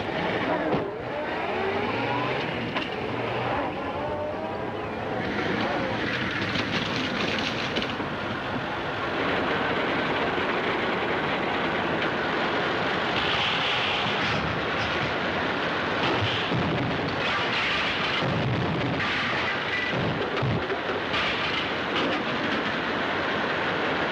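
A 1936 Earthworm crawler tractor drives through a swamp with a continuous clanking, rumbling mechanical drone that stays steady and fairly loud throughout, heard on an old film soundtrack.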